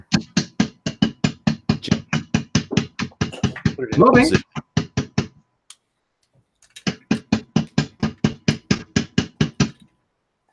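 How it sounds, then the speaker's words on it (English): Regular gentle hammer taps while mounting a rifle scope, a steady run of sharp close strikes that pauses briefly and then resumes, with a voice speaking over part of it. "Gently hit it with a hammer."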